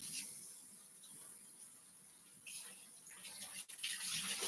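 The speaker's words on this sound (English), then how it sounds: "Mushrooms! I'm going to rinse these. You're going to watch me rinse them," Tap water runs in a steady hiss in a home kitchen as mushrooms are rinsed under the faucet, with a brief clatter near the end.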